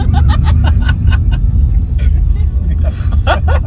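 A car on a pilgrimage road trip between Ujjain and Omkareshwar rumbles loudly and steadily from inside the cabin, a deep continuous engine and road drone under the chatter and laughter of passengers.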